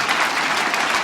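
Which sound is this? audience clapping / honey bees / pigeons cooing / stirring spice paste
audience clapping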